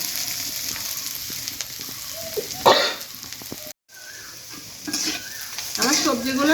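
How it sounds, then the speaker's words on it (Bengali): Vegetables with onion fry hard in a pan for restaurant-style chowmein, giving a loud, close sizzle broken by metal spatula scrapes and clanks against the pan, with a short pause partway through. "আমার সবজিগুলো দেখেন অনেক সুন্দর করে ভাজা হয়ে গেছে"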